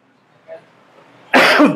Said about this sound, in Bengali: সরি এত কাশি হয়েছে না,